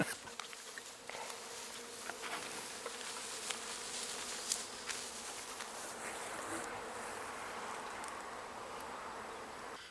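Honeybees buzzing around a hive in an apiary, a dense, continuous drone of many insects with occasional louder passes near the microphone, fairly faint overall.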